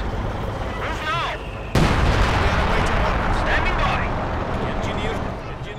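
Artillery fire in the video game Company of Heroes 2, a loud boom followed by sustained rumbling barrages and scattered blasts amid battle noise, with voices shouting over the din.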